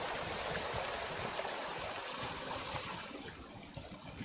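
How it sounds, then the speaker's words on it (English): Waterfall in the forest game Among Trees, a steady rushing and splashing wash of water, continuous and fairly close, easing slightly toward the end, with no talking. "Waterfalls."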